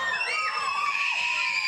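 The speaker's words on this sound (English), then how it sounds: "And the crowd's going wild." A crowd of blink-182 fans screams and cheers loudly during a 1997 TV interview, with high shrieking voices rising and overlapping continuously over the short stretch.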